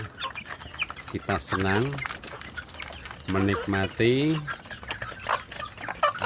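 Free-range village chickens cluck and call in bursts close by on a backyard farm, mixed with someone talking over them.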